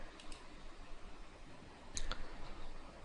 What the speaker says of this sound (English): then I'm going to click on next step